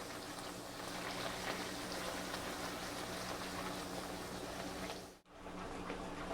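A corn tortilla fries in hot oil in a pan, a steady dense sizzle and crackle that holds evenly for several seconds before a brief dropout and resumes, with no talking.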